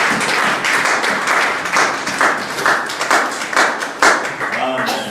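A church congregation gives an acclamation to the Lord with rhythmic, sharp hand clapping and scattered shouts mixed in, loud and near, the claps pulsing unevenly throughout.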